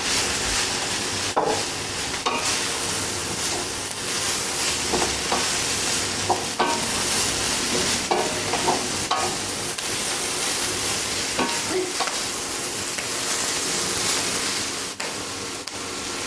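Mushrooms fry with a steady sizzle in a pan, while intermittent scraping and stirring knocks break through at irregular intervals.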